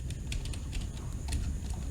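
Soft, quick clicks of a computer keyboard being typed on during coding, fairly faint over a low steady room hum, with irregular keystrokes across the whole stretch.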